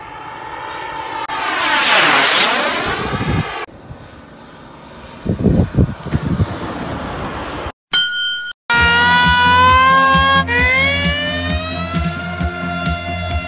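A remote-control model airplane trailing smoke flies overhead, its engine whining loudly as it swells and fades, broken by abrupt cuts and bright, ringing bell-like tones.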